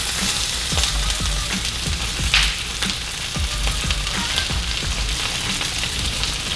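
Sliced onions and peppers sauté in a pan with a dense, continuous sizzle, dotted with crackles and the low knocks of stirring, with no talking.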